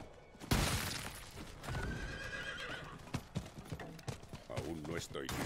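Horse galloping with clip-clop hooves and a neigh in the dark fantasy video game Diablo IV, loud and busy under game effects and someone talking over it.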